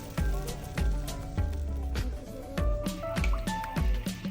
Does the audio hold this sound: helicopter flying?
no